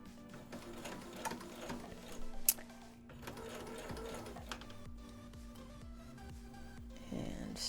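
A sewing machine stitches in the ditch of a waistband, its needle running in short bursts of quick rhythmic ticking with brief pauses between runs, close and fairly quiet.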